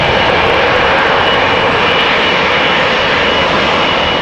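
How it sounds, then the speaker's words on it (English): An El Al Boeing 737-900 jet bound for Tel Aviv at Amsterdam Schiphol Airport roars with a loud, constant engine rush, close and unbroken, with no voices. "Boeing 737-900 as you can see. El Al going back to Tel Aviv, flight 238."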